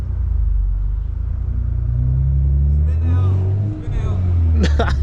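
A tuned BMW M340i with a downpipe exhaust rumbles loudly from inside the car in traffic, its low engine drone rising as it accelerates, while people talk over it.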